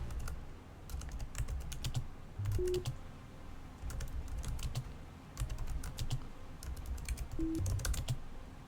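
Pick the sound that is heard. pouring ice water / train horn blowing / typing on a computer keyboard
typing on a computer keyboard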